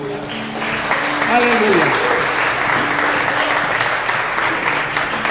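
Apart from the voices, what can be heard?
congregation applauding loudly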